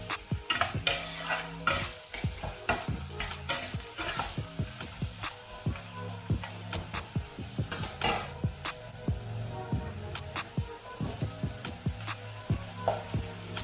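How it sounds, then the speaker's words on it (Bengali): Onions stir-fry in a pan with a continuous sizzle, punctuated by frequent rhythmic scrapes and clinks of a spatula against the metal, close and moderately loud with no speech. "পেঁয়াজটাকে হালকা ভাজা ভাজা করে নিতে হচ্ছে।"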